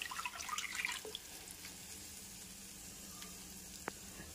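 Ingredients for a masoor dal and coriander soup fry in a pan with a steady low sizzle, a few brighter clinks and splashes early on and one sharp tap near the end, with no voices.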